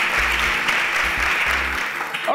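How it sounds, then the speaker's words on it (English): A studio audience on a Nigerian television contest show applauds contestant Marvelous in a brief, steady burst of clapping, with a low rhythmic thumping of music underneath. "Please a round of applause for Marvelous."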